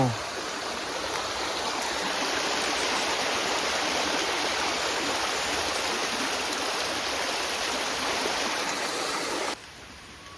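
A village stream flowing, a loud, steady close rush of water that continues unbroken and drops slightly in level near the end, with no talking.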